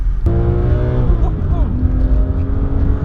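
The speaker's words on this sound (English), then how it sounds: "I like how smooth it is when you rev it out. It's one of the all-time slick motors." A BMW E46 M3 with a Dinan S2 straight-six engine runs with a loud, smooth, rising engine note recorded close up, and a voice talks over it.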